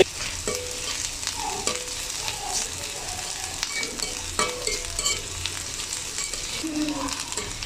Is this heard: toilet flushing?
no